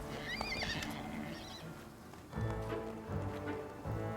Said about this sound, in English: the lazy neighs of ponies